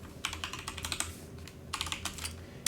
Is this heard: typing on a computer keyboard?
yes